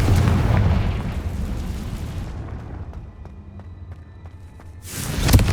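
Confringo fire blast spell in Hogwarts Legacy, a heavy booming explosive burst that rumbles and fades over a couple of seconds, then a second sharp blast near the end, with no talk.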